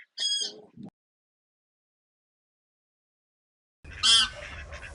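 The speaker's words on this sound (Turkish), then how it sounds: "Bunlar yabani kaz. Kızmış" Two loud, harsh honking calls from geese, one at the start and another near the end, separated by silence.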